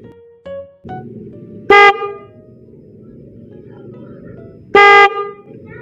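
A Bosch Strider snail car horn gives two loud, brief honks a few seconds apart, the first preceded by quieter short toots, over a steady low engine or background rumble.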